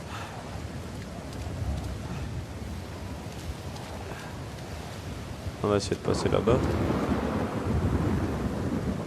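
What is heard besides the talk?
rain and thunder in video game Uncharted 4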